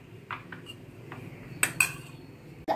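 A spoon or whisk clinks sharply against a bowl while cake batter with vanilla essence is mixed: a few sparse, bright knocks over a quiet kitchen background.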